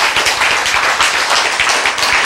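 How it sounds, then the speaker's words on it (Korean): Dense applause from a church congregation fills the whole stretch, many hands clapping steadily and loudly with no talk over it. "박수!"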